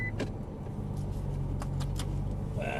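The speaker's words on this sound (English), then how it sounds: "We'll leave the engine running." A parked Nissan GT-R idles with a steady low rumble, close by, with a few short clicks and rattles over it.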